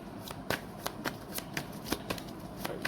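Tarot cards are shuffled close up in a series of quick, crisp riffling snaps at an irregular rhythm, fairly quiet and with no talking over them.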